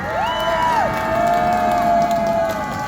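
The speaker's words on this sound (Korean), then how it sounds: "판사님들을 위해서 박수 한번 부탁드립니다" An audience at a Korean speech about elections cheers and whoops, with rising and falling shouted voices over a steady crowd roar; a few hand claps.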